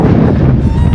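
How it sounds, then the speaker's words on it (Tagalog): Strong, cold wind buffets the microphone near a lake in Canberra, Australia, in a loud, steady rumbling roar. "Lakas ng hangin."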